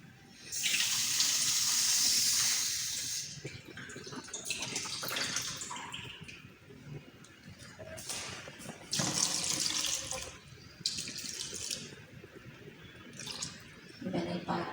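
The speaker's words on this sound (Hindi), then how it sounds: "इसमें थोड़ा पानी और डाल देती हूँ।" Water pours in a steady splashing stream into a pot of cooking moong dal with spinach, stopping and starting a few times, close by and fairly loud.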